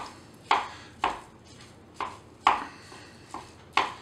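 Ground meat broken up in a pan for nachos, heard as about seven sharp utensil taps and scrapes at an uneven, roughly half-second pace, close and moderately loud with no talking.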